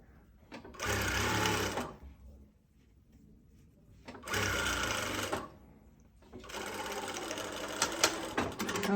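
A sewing machine stitches fabric in three close, loud bursts of rapid whirring, separated by short pauses.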